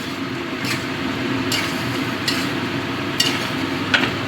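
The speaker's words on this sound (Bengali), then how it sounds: "এবার এই মশলাটা আলু গাঁটি কচুর সাথে কষে নেব।" A spice paste is sautéed with potatoes and taro in a pan over a raised gas flame. A steady sizzle carries on throughout, with a few sharp scrapes of a stirring utensil spaced about a second apart, close and without talking.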